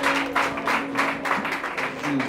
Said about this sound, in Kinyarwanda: Mukomere amashyi.